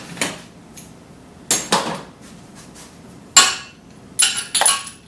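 A short wrench handled near a 1973 Dodge Dart with a 340 engine, with several sharp metallic clinks and clanks spaced irregularly and close by, separated by quiet gaps.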